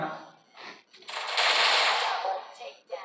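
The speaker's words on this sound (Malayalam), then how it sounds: "റിയാനെ അയ്യോ എടാ എന്റെ വെടി എന്താ അവന്റെ ഉള്ളിൻ്റെ അകത്തൂടെ പോണേ." Video game gunfire: a loud, sustained burst of rapid shots lasting about a second, with quieter voice-like sounds just before and after.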